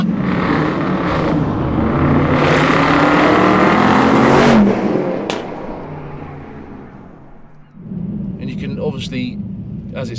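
A Dodge Challenger 392 R/T Scat Pack V8 roars loudly as it accelerates hard away, building for several seconds before the engine note drops and fades, with voices talking over it.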